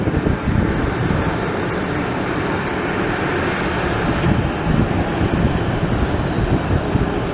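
Loud, steady jet roar from a Southwest Airlines Boeing airliner, a broad rumbling wash that holds for several seconds with slight swells, no voices.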